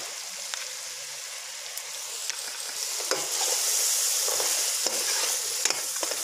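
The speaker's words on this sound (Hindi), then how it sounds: "अब इस तमाम मसाले को हम अच्छी तरह भूनेंगे।" Spices and yogurt frying in a pot for chicken pulao, stirred steadily, giving a continuous close sizzle with scraping and clinking of the spoon against the metal.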